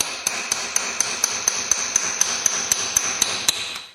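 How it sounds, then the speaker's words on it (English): A hammer drives a chisel against a corroded aluminum Meyer E-60 snow plow pump, ringing out in sharp metallic strikes at a steady, even pace of about four per second, loud and close with no talk. "I usually try to start out with the chisel."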